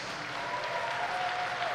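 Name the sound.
applause for senior athletes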